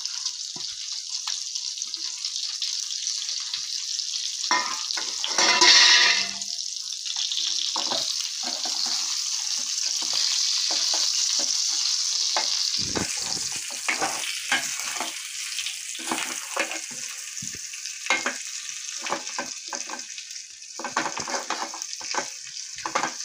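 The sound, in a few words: brinjal frying and being stirred in a pan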